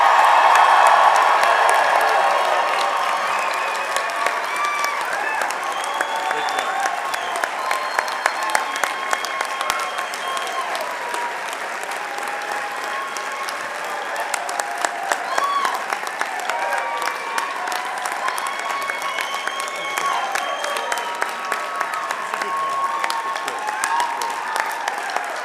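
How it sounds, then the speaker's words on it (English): A crowd at a Humber College graduation ceremony gives a long, dense round of applause with scattered cheers and whoops. It is loudest at the start and then holds steady, with occasional voices standing out. "Please stand up and give a rousing Humber College cheer in celebration of today's graduates."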